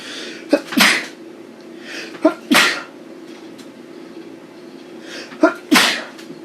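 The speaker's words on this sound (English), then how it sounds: "I gotta sneeze again, which is gross" Three sharp sneezes, each a quick inhale followed by a forceful burst, spaced a second or more apart in a quiet room.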